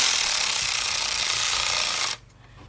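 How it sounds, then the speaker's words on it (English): A cordless ratchet with a 13mm shallow socket works a bolt on a 1997 Mercedes-Benz E320 W210 3.2 upper timing cover, a steady close buzzing whir of about two seconds that stops abruptly, then quiet. "got my 13mm shallow with my cordless ratchet"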